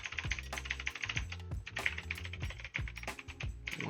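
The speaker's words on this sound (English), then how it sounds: "Let's type Benjamin. New password" Rapid keystrokes on a computer keyboard while a password is entered, a close, steady run of crisp clicks and taps with brief pauses between bursts.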